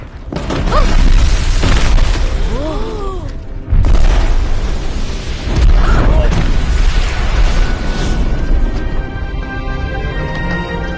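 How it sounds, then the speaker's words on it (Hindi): Firecrackers go off in a loud, continuous rumbling roar with two sharp onsets, a brief gap between them, and voices talking underneath. "तुम पटाखे इस्तेमाल कर रहे हो?"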